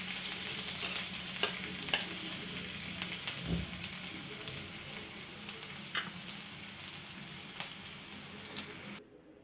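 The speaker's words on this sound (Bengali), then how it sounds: "তেলটা আমার গরম হয়ে গেছিলো, তো পেঁয়াজ কুচিগুলো আমি দিয়ে দিয়েছি" Chopped onions frying in hot oil, a steady close sizzle with occasional stirring clicks and scrapes, no talking.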